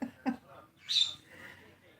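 A few sharp, shrill conure parrot calls ring out close by, two brief chirps and then a louder squawk, with quiet pauses between.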